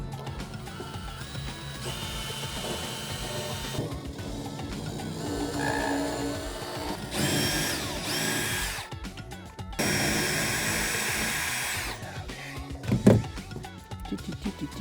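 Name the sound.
power drill drilling holes during boat rebuild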